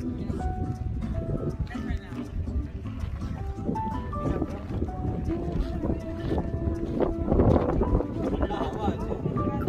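Wind gusts buffet the microphone atop the Cabo da Roca sea cliffs in Portugal, a steady broadband rush under people talking throughout.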